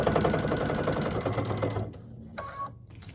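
A sewing machine stitching down quilt binding on a fabric pumpkin door hanger: a fast, steady mechanical whirr for about two seconds, then it stops, leaving a few faint clicks and a brief high beep.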